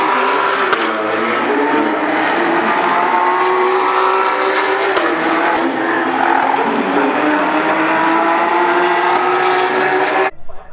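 Race cars roar around the Le Mans circuit during a race day at the 24 Hours event. The engines drone loudly and continuously, rising and falling as cars pass, then cut off abruptly at the end.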